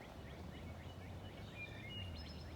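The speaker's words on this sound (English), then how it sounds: "I'm hearing the wood thrush." Wood thrush singing outdoors on a spring woodland walk, its fluting, rising phrases repeated several times at moderate distance over a steady low rumble of background noise.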